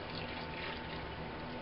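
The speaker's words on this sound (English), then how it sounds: "And now I'm going to strain my water," Water left from boiling corn cobs is poured through a strainer in a kitchen, giving a steady, continuous splashing rush close by, with no pauses.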